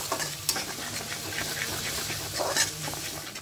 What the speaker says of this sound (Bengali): দিয়ে একটু মশলাটা খুব ভালো করে কষিয়ে নেব।